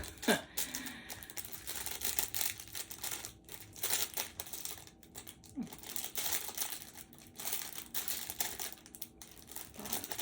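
Plastic packaging around a small bag of assorted miniature dollhouse donuts crinkles and rustles steadily in faint, close handling, with soft chirps in between and no clear talk.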